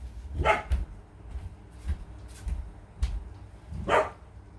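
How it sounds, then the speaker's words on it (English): A dog barks several times from a short distance, sharp separate barks spaced about a second apart with a low background rumble between them. "I want to see if it's one of our dogs or if it's another dog."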